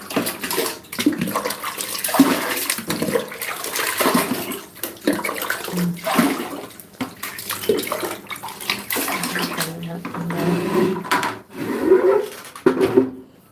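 Hot water is poured and splashed into a basin to prepare a foot soak, a steady close-up rush of water that swells and fades in waves over about fourteen seconds.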